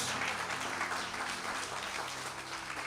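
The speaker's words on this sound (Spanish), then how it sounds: "Dale un aplauso más fuerte a Jesús." A church congregation applauds during a worship service, a steady wash of clapping that fills the space, with faint tonal music or hum running underneath throughout.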